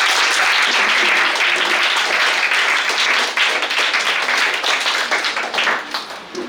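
Seventh-grade students applaud at a social science class debate, a dense, steady burst of many hands clapping together that stays loud throughout and tapers slightly toward the end.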